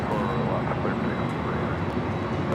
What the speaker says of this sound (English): At the Delta 767-400ER number 2 for takeoff.